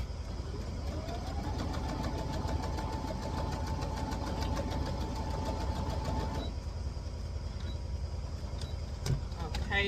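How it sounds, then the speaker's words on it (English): A sewing machine running a forward and backward stitch on fabric cut from vintage sheets, a steady whirring motor hum with rapid needle clatter for about six seconds, then stopping, followed by a few quieter clicks and handling sounds. "Forward and backward stitch."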